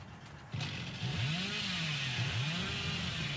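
Billy's chainsaw in the horror game Dead by Daylight revs up with a sharp start, then swoops repeatedly up and down in pitch as a survivor crashes into a wall, loud and close over a steady background hiss.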